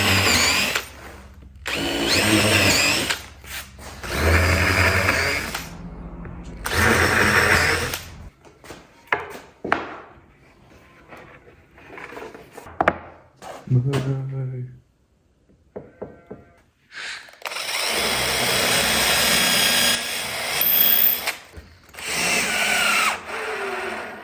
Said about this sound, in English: I'm edge drilling plywood